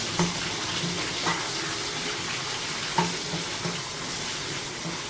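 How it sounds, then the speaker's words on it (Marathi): Chopped onion, tomato and green chillies being fried in a pan, giving a continuous hissing sizzle with a few light stirring clicks, close and steady throughout without any voices. "फक्त असं थोडंसं फ्राय करून घ्यायचं आपल्याला त्याला परतून घ्यायचं"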